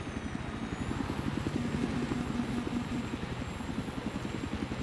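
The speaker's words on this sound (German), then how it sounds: "Ich hab einen gepanzerten Heli, du." An armored helicopter in the video game Battlefield 3 thrums with a steady, rapid rotor chop and a constant engine drone, loud and continuous, with a faint high whine above it.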